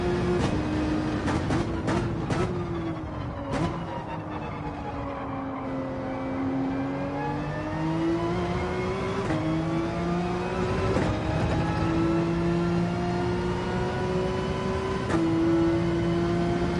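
A Porsche GT3 race car engine in a racing video game drones steadily at high revs, with its pitch sweeping up and down through gear shifts and a few sharp clicks near the start, loud and continuous without talk.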